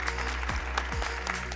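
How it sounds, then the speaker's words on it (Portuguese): An audience applauds at a Brazilian health innovation talk, a dense and steady wash of clapping that fills the short moment at moderate loudness. "Uma salva de palmas."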